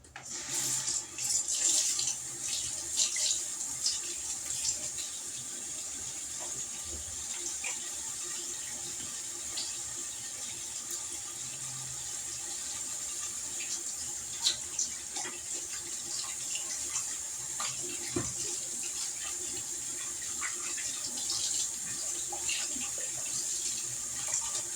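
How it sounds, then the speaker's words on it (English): Steady running water from a tap as hands are washed under it, a continuous close hiss with small splashing changes throughout and no speech. "Let me wash my hands."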